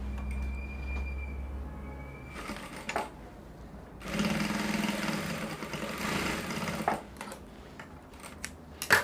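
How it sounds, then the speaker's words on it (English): A sewing machine top-stitching an outside pocket with a facing runs in a few bursts, with a sustained stretch in the middle and short stops and starts, fairly quiet and close. "Just top stitch on it so that it can remain in place."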